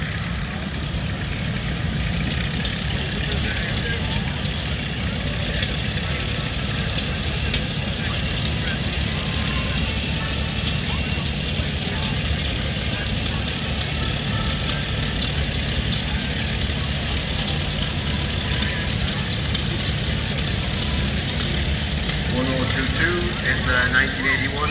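Vintage Massey Ferguson tractors, including a 133, idle at an Innishannon steam rally as a steady low engine rumble. It continues throughout beneath a man's announcement over a public-address system.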